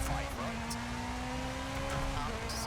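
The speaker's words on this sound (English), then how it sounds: "Yeah, car definitely sounds a bit rough." A rally car engine in the video game EA WRC, with body panels missing, drones steadily and roughly at close range on the Safari Rally Kenya stage, with faint tire noise and a voice speaking briefly over it.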